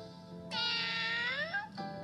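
A stray cat gives one long, clear meow that rises and then falls, close and fairly loud against a quiet background.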